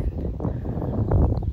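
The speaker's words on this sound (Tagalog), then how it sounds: "Sobrang lakas ng hangin." Strong wind roars steadily and low against the microphone outdoors in green New Zealand countryside, a constant close rumble with gusty swells.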